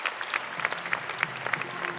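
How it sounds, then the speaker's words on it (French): An audience applauds at a dance awards ceremony honouring choreographers and artists, a brief, steady burst of many hands clapping heard from a distance, with no talk over it. "Je vous demande de l'applaudir très fort."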